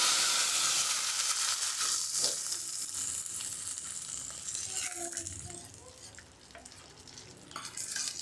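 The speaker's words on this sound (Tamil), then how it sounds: "நம்ம இதில் அந்த தாளிப்பை சேர்த்து மிக்ஸ் பண்ணிக்கலாம்" Dried chillies and curry leaves sizzle in hot oil as a tempering for Andhra spinach dal, a loud hissing crackle at first that settles and fades, with stirring clatter near the end.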